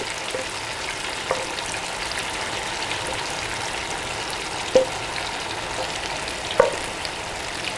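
Blended chili and shallot paste sizzling in a pan for sambal goreng, a steady soft frying hiss with a couple of sharp clinks from a utensil against the pan.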